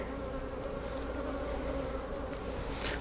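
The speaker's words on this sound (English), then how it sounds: "all these bees are coming and going right here" A dense, steady drone of many honey bees buzzing close by at a hive, continuous and unbroken, with occasional individual bees zipping past.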